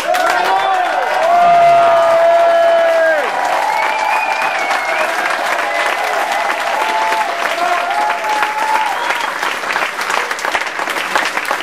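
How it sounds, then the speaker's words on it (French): Loud sustained audience applause and cheering at a Quebec tribute event, dense clapping with whistles and shouts rising above it and a few voices calling out, filling the whole stretch without pause. "Puisque vous avez le goût de taper dans vos mains"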